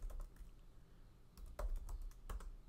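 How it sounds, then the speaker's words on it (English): Computer keyboard typing while entering a name in a script font for a Christmas vinyl craft project, with short bursts of quiet keystrokes and brief pauses between them, close and soft, no talking. "I'm going to type in my daughter's name since it's her first Christmas."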